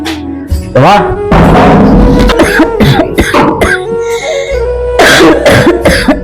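Several loud, close coughs and throat clearing come in bursts, mixed with a person talking in between.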